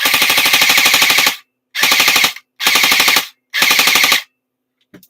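Airsoft rifle firing on full auto after a rebuild: four rapid mechanical bursts of about a second each, separated by short silences and ending with a faint click, loud and close with no talking.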